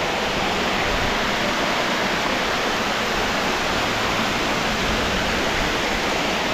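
A forest waterfall in Mae Ramat, Tak, Thailand, heard from its top, roars steadily nearby, a dense, constant rush of falling water with no other sounds.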